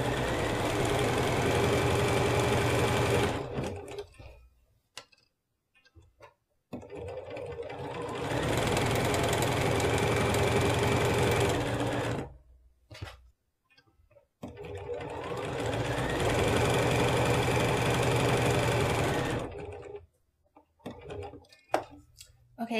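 A sewing machine chain pieces quilt triangles for flying geese blocks, running in three long steady bursts of rapid mechanical stitching separated by quiet gaps with faint handling sounds, close by.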